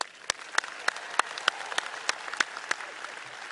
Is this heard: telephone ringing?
no